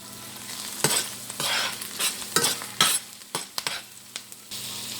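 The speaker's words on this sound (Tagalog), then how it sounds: "igisa natin ang sibuyas, onions. Igisa natin siya hanggang sa mga moy." Onions being sautéed in a pan for Filipino pork afritada, with a steady sizzle and repeated sharp scrapes and stirring clatters of a utensil against the pan, close up and with no talking.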